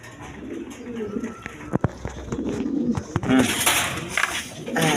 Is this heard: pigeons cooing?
yes